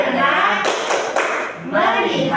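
Schoolchildren in a classroom clap a rhythmic focus pattern together, a few sharp bursts of group claps separated by short pauses, with a teacher's voice speaking around them.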